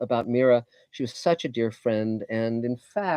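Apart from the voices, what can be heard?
No everyday noise stands out behind the speech.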